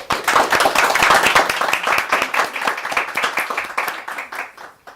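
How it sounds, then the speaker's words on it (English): A small audience applauds at an interview salon, a dense burst of close, distinct handclaps that starts strong, stays lively and gradually thins out toward the end. "let's give a warm round of applause for Kate Rose."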